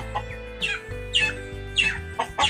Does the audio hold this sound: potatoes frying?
no